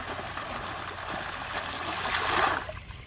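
Water from a small pond waterfall splashes steadily onto beach rock, a continuous close trickling and gurgling wash that swells slightly before easing off.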